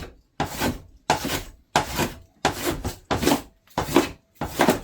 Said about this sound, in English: I'm just taking my manual planer and slowly going to get this down to the correct depth